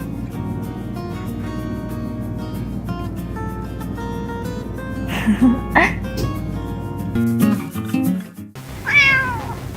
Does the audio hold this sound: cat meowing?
yes